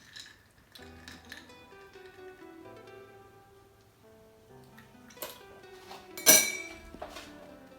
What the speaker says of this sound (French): On va mettre un petit coup de cuillère pour mélanger tout ça, pour éviter que le rhum reste au fond